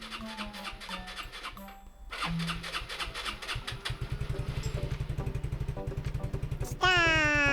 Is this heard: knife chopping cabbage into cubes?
no